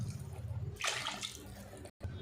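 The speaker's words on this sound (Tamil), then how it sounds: "குழம்புக்கு தேவையான அளவுக்கு நம்ம தண்ணி ஆட் பண்ணிக்கலாம்" Water is poured into egg curry gravy in a pan, giving a steady splashing gush that sounds close and fairly soft, with a brief break just before the end.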